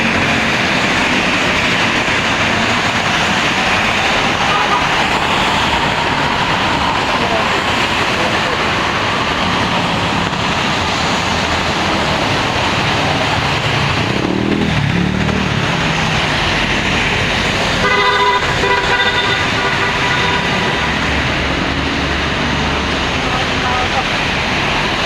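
An MRT train rolls past with a loud, steady rumble and hiss that lasts throughout. A brief tonal horn toot sounds near the end, and voices are faintly mixed in.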